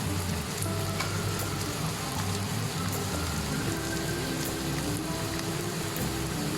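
Garlic cloves sizzle and crackle steadily in hot oil in a clay pot for fish curry, a close, continuous dense frying hiss with no talk.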